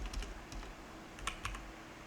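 Keys on a computer keyboard clack quietly as a command is typed, in a loose run of light, close taps with a few brief pauses and a couple of slightly firmer strokes.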